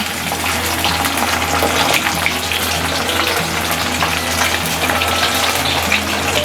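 Fish fries in hot oil with a loud, dense, unbroken sizzle that holds steady throughout, close and with no voices over it.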